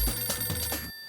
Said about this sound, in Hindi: आपका फोन बज रहा है